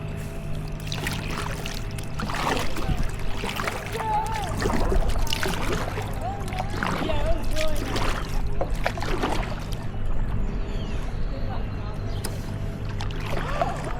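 Kayak paddle strokes splash and drip in water at close range, repeating irregularly over a steady background, with a voice talking through much of it.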